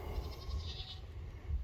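Goats bleating on a farm property during fence-line cleanup; a couple of short, faint bleats rise briefly over steady outdoor background noise, with no talking.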